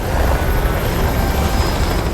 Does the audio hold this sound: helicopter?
yes